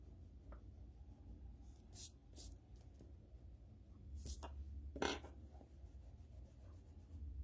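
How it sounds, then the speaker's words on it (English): An eraser scrubs pencil lines off paper on a Christmas reindeer drawing, giving soft, close rubbing strokes that come in short bursts with brief pauses over a low, steady background. "Erase the pencil work."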